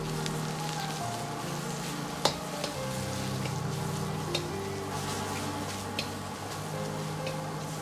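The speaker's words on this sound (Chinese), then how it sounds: "下入切好的香菇片，" Sliced shiitake mushrooms fry in scallion oil over medium heat, giving a steady close sizzle with occasional small ticks and pops, under a low background hum and with no talk.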